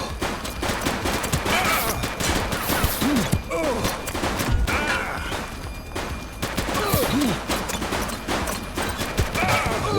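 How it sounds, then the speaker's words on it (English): Police gunfire in The Precinct video game, sustained volleys of rapid shots that continue almost without a break, loud and close, with occasional thuds mixed in. "Shots fired!"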